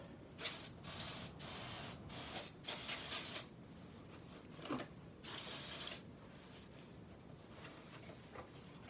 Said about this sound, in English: I need brake cleaner. Clean the rotors off.